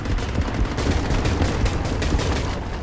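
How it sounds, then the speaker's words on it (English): Rapid gunfire from an underwater bullpup rifle in the shark video game Depth, a dense, loud stream of repeated shots with steady rhythm and no voices. "He's got an underwater bullpup rifle."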